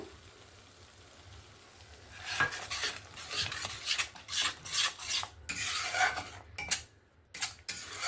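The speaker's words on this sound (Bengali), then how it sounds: "এবার আমি এই বেটে রাখা পেঁয়াজ আর টক দইটা আমি দিয়ে দেব" A spoon scrapes and stirs a thick, restaurant-style matar paneer masala gravy after ground onion and sour yogurt are added, starting faint and then becoming a steady run of close, raspy scraping strokes.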